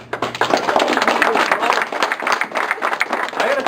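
A roomful of guests at an 80th surprise birthday party claps steadily and loudly, dense applause throughout with murmured voices underneath.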